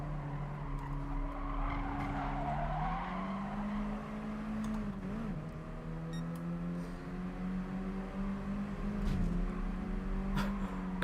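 Racing cars in GT Sport on the Blue Moon, Spa or Autopolis circuits, with steady engine drone and rising gear-shift tones as tyres skid and squeal under braking, loud and continuous throughout.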